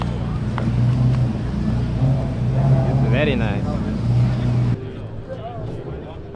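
Cars at a car meet drive by with a steady rumble and engine noise, and one passes close with rising and falling revs. The noise drops abruptly near the end, and voices are faintly mixed in.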